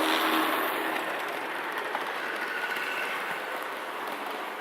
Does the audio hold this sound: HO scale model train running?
yes